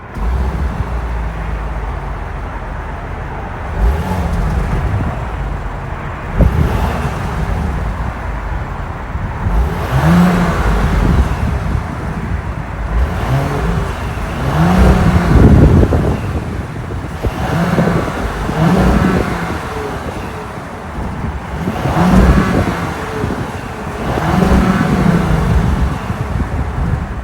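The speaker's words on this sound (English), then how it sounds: "let's fire up this 3-liter turbo and hear how she sounds" A 2023 Audi Q7 SUV's 3-liter turbo mild-hybrid engine cranks over and catches, then revs repeatedly in several loud bursts, settling back to a steady idle between each climb.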